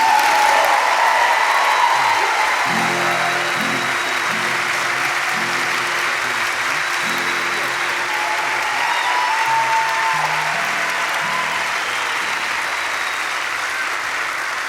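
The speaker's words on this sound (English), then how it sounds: "Please give him about a 400 shows worth round of applause" A concert audience at the Ryman gives sustained applause for the sound engineer, a dense, even roar of clapping with a sung or played tone briefly underneath, holding steady then slowly easing off.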